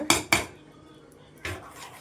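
A ladle clanks against a metal pot while ragi flour is added to cooking rice for Andhra-style ragi sangati: two sharp knocks close together, then a third after a pause, each followed by a faint scrape.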